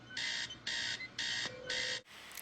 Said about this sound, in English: The same alarm clock sound effect?